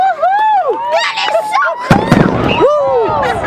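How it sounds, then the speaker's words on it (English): Sonic booms from a Falcon 9 rocket booster coming down to land at Vandenberg Air Force Base: sharp, loud booming bursts heard outdoors, with voices of onlookers around them. "Those were the sonic booms"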